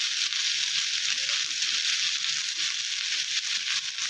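Garlic and green chillies frying in oil with gourd leaves, a steady, fairly loud bright sizzle with faint crackles running throughout; no talking.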